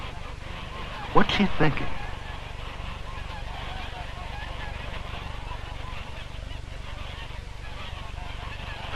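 Geese honk a few times near a muddy pond where a little dog is working, a brief loud burst of calls early on, followed by quieter outdoor ambience while a voice speaks.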